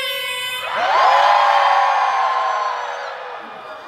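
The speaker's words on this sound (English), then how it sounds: "Thank you for welcoming us with loud cheers." A packed arena crowd at a (G)I-DLE soundcheck at Oakland Arena erupts into loud, sustained screaming and cheering. The shrill whoops swell quickly, hold strong for a few seconds, then ease off.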